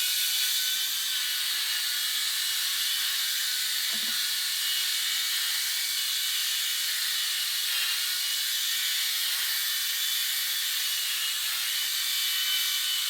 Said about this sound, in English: right now I'm brushing against the grain or shaving against the grain